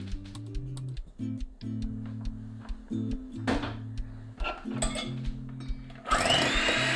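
An electric mixer whirs in a bowl of brown sugar, its motor humming in steady tones that stop and restart with clicks and rattles, closing in a louder gritty burst, close up and without talk.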